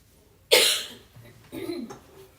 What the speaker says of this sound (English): Everybody can hear me clearing my throat all the time.